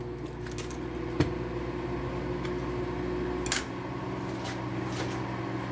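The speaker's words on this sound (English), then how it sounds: "I'm going to put this in the microwave here" A microwave oven runs while melting a melt-and-pour soap base, a steady low hum and whir with a couple of faint clicks and knocks, then the hum stops near the end.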